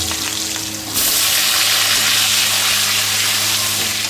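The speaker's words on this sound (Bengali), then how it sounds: "এবার আলুগুলো দিয়ে দিলাম।" Potatoes drop into hot oil already crackling with bay leaf and panch phoron in a kadai, and the steady sizzle jumps to a loud, dense frying hiss that holds for several seconds.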